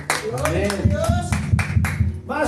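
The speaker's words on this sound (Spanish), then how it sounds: "Dale un fuerte aplauso al Señor Jesucristo" Church congregation applause after a call to praise Jesus Christ, a crowd clapping loudly in rapid irregular bursts, mixed with shouting voices throughout.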